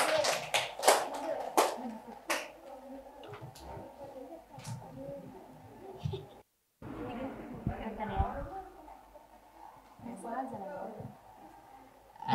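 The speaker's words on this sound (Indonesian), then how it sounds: "Boleh berikan tepuk tangan sekali lagi untuk kelompok kedua." Clapping at a classroom workshop for the second student group, sharp hand claps early on, then a short gap and scattered taps amid children's chatter and talking voices.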